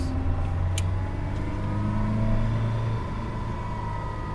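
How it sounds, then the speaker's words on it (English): A 1979 Fiat 127 Sport engine hums steadily and close by while driving, a continuous droning rumble with slight rises in revs, no voices. "It isn't the quietest car, but it is all the more entertaining because of it"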